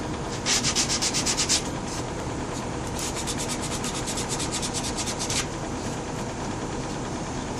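Hand sanding of refinished wood on a Zenith 8S536 radio cabinet, rough rhythmic rasping strokes at close range, with a quick run of short scrubs early on and another burst later over a constant abrasive rub.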